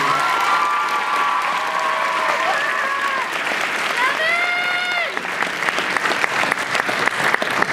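Loud, continuous applause from a student audience at a student council campaign event, many hands clapping steadily throughout, with cheering and a few voices heard within it.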